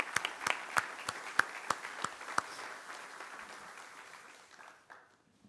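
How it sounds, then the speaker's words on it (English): Scattered hand claps from a press conference audience, a quick round that starts with sharp individual claps and thins out, fading toward silence by the end. "let's give a quick round of applause for Joe in his absence"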